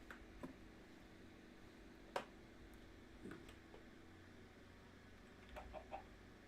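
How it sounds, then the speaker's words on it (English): A chicken clucks faintly a few times in a Minecraft game, sparse short sounds over a quiet, steady background hum. "I hear a chicken."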